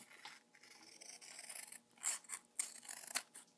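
Scissors trimming the excess white border off a Pokemon card, a series of crisp close snips and slicing rasps in quick irregular bursts, quiet and without talking.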